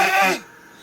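A child imitates a goat's bleat with a short, bright, wavering vocal burst lasting under half a second, fading to near silence.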